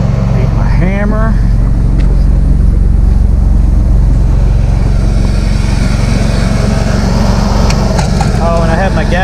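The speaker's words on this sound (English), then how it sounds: "I have my gas-powered, my big air compressor here with my big tank" A big gas-powered air compressor with a large tank runs loud and steady right up close, its engine drone continuous throughout, with brief voice-like fragments barely poking through.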